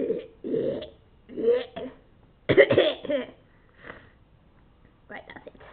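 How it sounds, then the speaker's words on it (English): Several rough coughs and sniffs come in separate bursts with short pauses between, close to the listener, with no talking. "please stop that bloody coughing"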